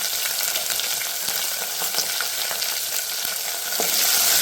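Tomatoes, green chilli, ginger and asafoetida sizzle in oil in a pan while a spoon stirs them, a steady close frying hiss broken by soft scraping taps, with no voices.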